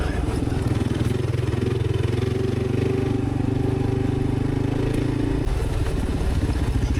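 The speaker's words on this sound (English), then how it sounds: "The old CRF goes pretty good with Pete" A Honda CRF dirt motorcycle engine runs steadily and loud throughout while riding a red clay dirt road on Black Mountain Road in Far North Queensland, with a rough, clattering drone that shifts and drops near the end.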